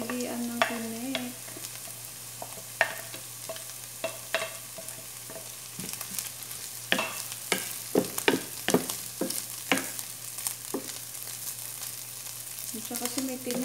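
Fish added to a pan with onions sizzles and crackles steadily, with scattered sharp clicks of stirring and utensil taps over a continuous frying hiss.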